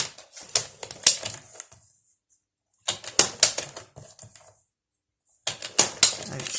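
Paper for a mini journal being cut with a trimmer, three separate bursts of crisp, rapid clicking and slicing sounds with silent pauses between them, close and fairly loud.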